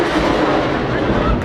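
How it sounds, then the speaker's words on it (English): Outgoing rocket launched from a fighters' position in a war zone, a loud sustained roar and rumble lasting the whole short stretch, close by and dense, with faint voices mixed in. "That's an outgoing rocket."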